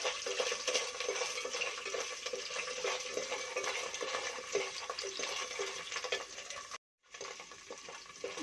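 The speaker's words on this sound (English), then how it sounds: "Now adding lady finger. First we have to fry this." Lady finger (okra) frying in oil in a pan, a soft, continuous sizzle with light stirring clicks, fairly quiet, cutting out briefly near the end before resuming.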